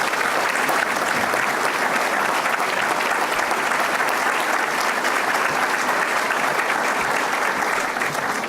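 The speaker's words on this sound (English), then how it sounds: "Give them a round of applause," A large audience at a public event with a senator gives loud, dense, continuous applause, an even roar of many hands clapping that holds steady throughout.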